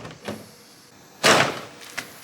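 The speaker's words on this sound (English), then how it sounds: "We need to open the doors a little bit first." A 2022 eleventh-generation Honda Civic door is opened with a soft initial click, then a louder, sharp latch release and brief clunk, followed by a faint final tap.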